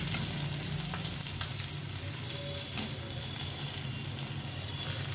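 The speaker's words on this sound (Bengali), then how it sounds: "এই বাকি মাছগুলো ভাজা হয়ে গেছে" Pabda fish fry in hot oil with a steady, dense sizzle and crackle, close and continuous, broken by a few soft stirring scrapes and no voices.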